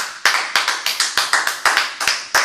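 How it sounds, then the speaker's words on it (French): A church congregation claps in praise, fast sharp rhythmic handclaps close by, about a dozen beats with no voices. "Acclamons Jésus"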